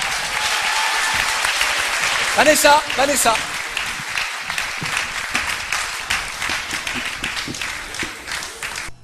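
A studio audience on a French TV quiz show applauds a contestant, with dense, sustained clapping filling the whole stretch, briefly swelling, while a voice calls out a name over it.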